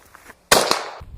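A single sharp rifle shot from a 55 grain bimetal Tula round striking an AR500 steel target, loud and close. It cracks after a quiet moment, with a quick metallic ring as it dies away over about half a second.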